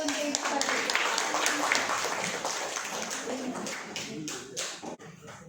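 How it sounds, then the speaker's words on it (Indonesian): Small group applauding for Ibu Fadli at an Indonesian teachers' session, scattered hand claps and taps over about five seconds, with voices talking over the clapping. "Tepuk tangan dulu untuk Ibu Fadli."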